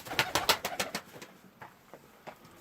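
Pigeons in a loft give a quick run of soft, repeated coos up close, then fewer scattered coos trail off, with no talk.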